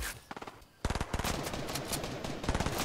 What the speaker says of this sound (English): They're shooting at me, I think.